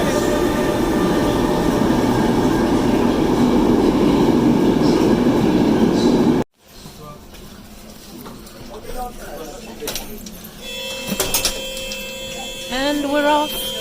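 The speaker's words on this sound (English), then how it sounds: "Yay, the train is here." A train pulls in at a Brussels station platform with a loud, steady rumble that cuts off abruptly. Quieter platform noise follows, with squeals, clatter and a person speaking.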